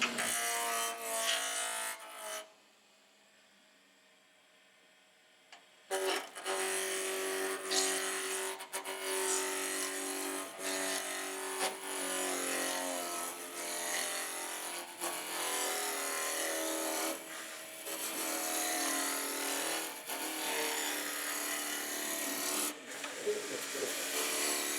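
Spindle gouge cutting a turning wooden blank on a lathe running fast, a continuous close scraping and hissing that drops out for a few seconds when the tool lifts away, then resumes with uneven rasping.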